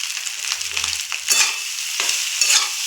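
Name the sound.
eggs and dal frying in a pan for pasta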